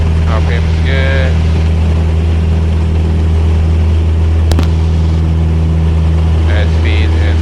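A Cessna 172S engine holds a steady, loud droning hum at takeoff power inside the cockpit, with brief radio or intercom chatter over it.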